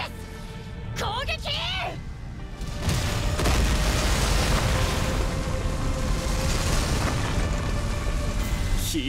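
Explosions from bombs in Attack on Titan 2 during the final battle against the Rod Reiss Titan, booming bursts followed by sustained rumbling roar, with a short voice call early on.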